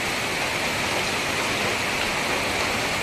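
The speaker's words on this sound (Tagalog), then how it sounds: "Grabe, lakas ang ulan" Heavy rain pours down in Bacolod, a dense, even hiss that stays loud and constant throughout with no pauses or voices.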